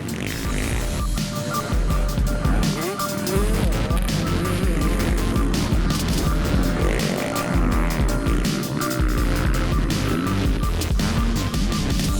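A 2018 Suzuki RM-Z 450 motocross bike rips laps at Bunker Hill, its engine revving and rising and falling constantly, loud and close with wind buffeting.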